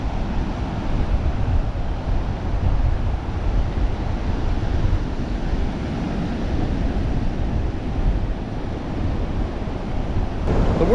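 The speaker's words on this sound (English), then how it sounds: "Love the sound of the waves." Ocean waves wash steadily onto the beach at Tybee Island at sunrise, a constant roaring surf with some wind noise and no voices.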